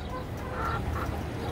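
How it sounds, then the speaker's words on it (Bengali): Australorp hens at an urban poultry farm call and cluck together in a short, steady, fairly loud burst of overlapping fowl sounds. "আপনারা আমাদের নগর ফার্মিংয়ের অষ্টলাভ মুরগিগুলো দেখতে পাচ্ছেন। তারা সকলেই ডাকাডাকি আরম্ভ শুরু করে দিয়েছে।"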